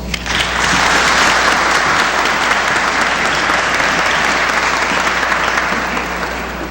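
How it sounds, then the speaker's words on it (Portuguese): A lecture audience at a Spiritist philosophy talk breaks into loud, sustained applause to welcome the speaker, a thick continuous roar of clapping that swells quickly and fades slightly at the close. "Vamos recebê-lo com os nossos carinhos, com as nossas melhores vibrações e os nossos aplausos"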